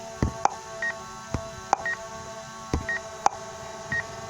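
A DJI Mavic Air 2 drone controller beeps repeatedly, short tonal electronic chirps at roughly one-second intervals alongside faint clicks, close and clear in a quiet setting.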